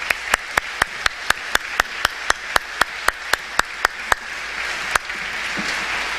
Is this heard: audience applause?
yes